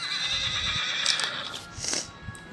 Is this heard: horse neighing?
yes